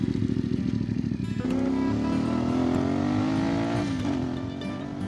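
A CFMOTO 450MT adventure motorcycle pulls away from a stop, its engine note climbing loudly and up close through a long rising rev, then easing off.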